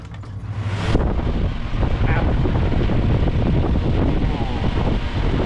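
Constant low roaring whoosh of a home air cooler running close by after repair, with a rustling start that settles into a steady drone.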